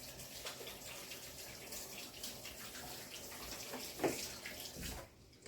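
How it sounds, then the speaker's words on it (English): Water runs from a kitchen tap while hands are washed beneath it, a steady close splashing stream with a few louder splatters before it shuts off near the end. "Wash my hands."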